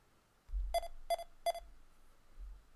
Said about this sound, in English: If you enter a score higher than 25, you're going to hear the audible beep.